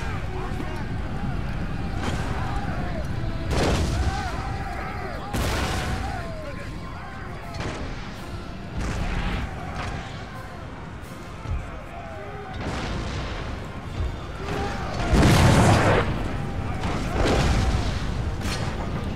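Cannons fire round shot during a naval battle in Empire Total War, with repeated heavy booms going off over a continuous rumble of wind and sea, and one louder blast near the end.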